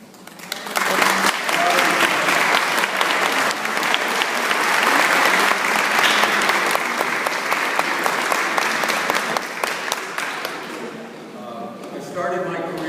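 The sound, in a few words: audience applause at graduation ceremony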